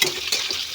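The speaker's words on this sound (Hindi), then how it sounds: "अब लाल करके चलिए आलू भूनते हैं।" Potatoes frying in a pan give a steady close sizzle, with a few soft stirring scrapes partway through and no talking.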